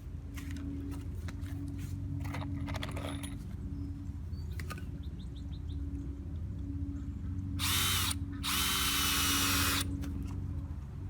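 Power drill driving 2.5-inch deck screws into a floating dock under construction, several short whirring bursts of the motor, then two longer loud bursts near the end, over a steady low background hum.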